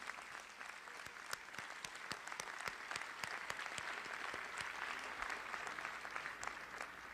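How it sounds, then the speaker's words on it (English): An audience claps for questioners Henry Kaufman and Ed Hyman at an Alan Greenspan event, a sustained round of dense applause, fairly soft and distant, holding steady throughout. "Ladies and gentlemen, a round of applause for our two expert questioners"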